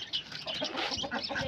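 Chickens clucking and squawking close by, a busy overlapping chorus of short calls that keeps up throughout.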